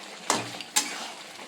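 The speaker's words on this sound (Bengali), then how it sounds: "এটাকে দিয়ে ভালো করে কষিয়ে নেব।" A fried egg sautéed with onion and tomato in a pan gives a low sizzle with two sharp stirring clinks, close and fairly quiet.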